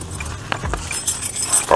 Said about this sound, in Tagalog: patayin muna natin saglit makina